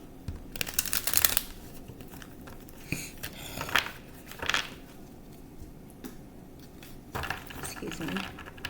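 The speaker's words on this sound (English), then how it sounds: "I'm going to shuffle, as I said." Soft bursts of tarot cards being shuffled, several quick riffles spread out over a quiet room, fairly close and gentle.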